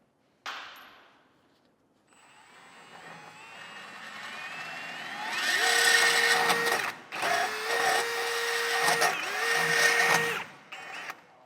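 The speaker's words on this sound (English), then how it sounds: "Now you may end up needing a die grinder after all to be able to trim the side out a little bit" A die grinder trims metal to fit a round bolt head while a Curt custom base plate kit is fitted to a 2023 Jeep Gladiator; a loud, close, high whine runs several seconds in bursts with brief pauses between cuts.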